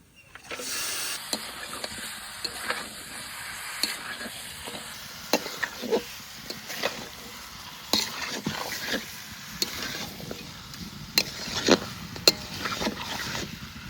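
Mutton frying in a pot with Kashmiri chilli powder and turmeric is stirred with repeated scraping strokes over a steady sizzle and hiss, close and moderately loud throughout.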